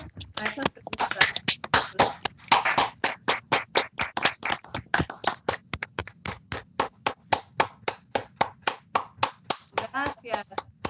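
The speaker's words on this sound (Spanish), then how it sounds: "Un aplauso para todos estos estudiantes que compartieron sus respuestas a esas preguntas." An audience at a student recognition night claps for students who shared their answers. The claps come rhythmically and steadily, close by, with voices talking over them.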